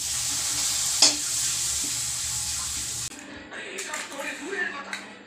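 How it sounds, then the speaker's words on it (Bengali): Papad (poppadoms) frying in hot oil in a home kitchen: a dense, even hiss for about three seconds, then quieter clinks and shuffling sounds. "এদিকে পাঁপড় তো ভেজে তুলেই নিচ্ছি আমি"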